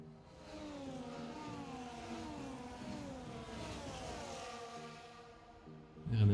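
Formula 1 race cars at the Dutch Grand Prix in the F1 video game, several high-pitched engines whining past one after another with rising and falling pitch at moderate loudness, no talk.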